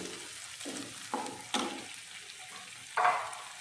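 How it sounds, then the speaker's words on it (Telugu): A pan sizzles softly as tomato rice cooks, broken by four or five sharp scraping stirs of a spoon against the pan, close and fairly quiet with no talking. "సో ఫ్రై అయిపోతుంది."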